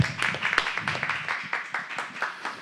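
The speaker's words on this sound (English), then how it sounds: "All right, another round of applause." A live audience gives a round of applause, steady dense clapping at moderate level throughout, with a few sharper individual claps standing out.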